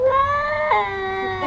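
A house cat gives one long, drawn-out meow up close, loud and clear, with a slight wavering rise midway and no talk over it.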